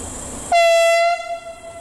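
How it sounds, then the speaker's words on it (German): A regional train leaves on the line from Reutte in Tyrol toward Garmisch-Partenkirchen and sounds a loud, steady horn tone for about a second over a rumbling background, which then fades to lower rolling noise. "Der Zug nach Garmisch-Partenkirchen macht sich auf den Weg."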